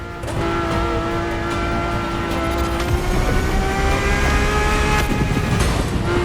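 A high-revving Ferrari engine in The Crew Motorfest video game screams steadily, its pitch climbing through the gears with sharp shifts, loud and close throughout with no talking.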